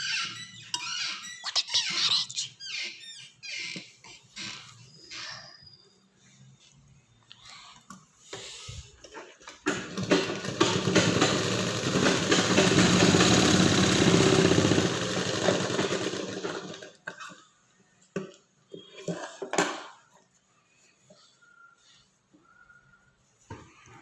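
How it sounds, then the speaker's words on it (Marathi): A sewing machine stitching fabric runs in one steady whirring burst of several seconds in the middle, surrounded by scattered clicks, squeaks and handling noises before and after. "आता हे टिप मारून द्यायची."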